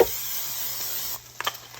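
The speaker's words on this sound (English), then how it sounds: "And so I just grabbed some Pam. I'm just going to spray it." Pam cooking spray hisses steadily onto a pan for about a second, a close, continuous aerosol spray at a kitchen stovetop, followed by a few faint clatters.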